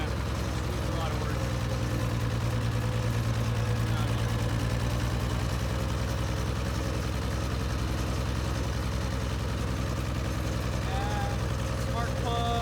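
A Farmall 706 gas tractor with M&W pistons, worn and in need of restoration, runs at a steady close idle-like drone throughout while someone talks over it.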